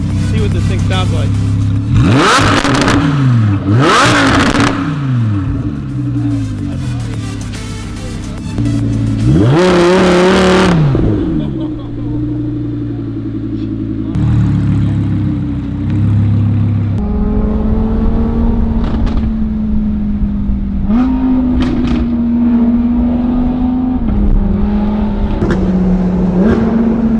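A new car's engine is revved and heard from outside: several loud, rising blips and roars followed by a steady idle with smaller throttle bursts, voices talking over parts of it.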